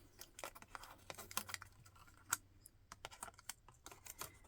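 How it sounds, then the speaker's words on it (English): Masking tape peeled away from paper on a stamped twilight card made with Distress Oxide inks, giving a quick run of crisp, crackly ticks and small tearing bursts, close up with no voice. "So I'm going to peel away"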